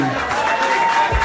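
Audience clapping at a live acoustic concert, a brief dense patter of applause with a spoken voice over it.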